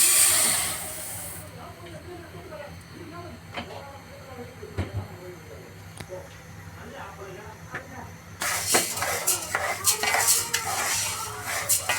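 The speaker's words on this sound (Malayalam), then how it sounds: "ഒരു പാത്രം അടുപ്പ് വെച്ച് നമുക്ക് ഈ പരിപ്പൊന്ന് വാർത്തെടുക്കാം." Lentils stirred in a metal pot on a stove for payasam, with scattered spoon clinks and scrapes, then a louder burst of sizzling and clattering near the end; someone talks over it.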